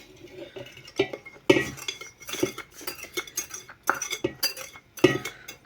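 Easter bread dough being mixed with its starter in a bowl, the spoon knocking and scraping against the sides in irregular clinking bursts, close and fairly loud, with no talking.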